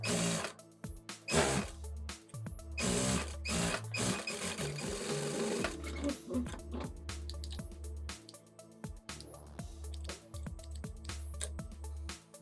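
A sewing machine stitches the folded hem of elastic shorts, its rapid needle chatter running steadily for several seconds with brief stops and starts, close up and without talk.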